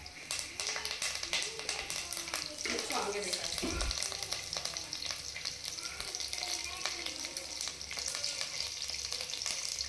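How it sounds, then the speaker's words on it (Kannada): Curry leaves hit hot oil for a tempering, crackling into a dense, loud sizzle that runs the full length, with a brief burst of spattering midway and occasional tapping of a spoon. "ಎಣ್ಣೆ ಕಾದಾದ್ಮೇಲೆ ಇವಾಗ ಕರಿಬೇವು ಹಾಕ್ಕೋಬೇಕು."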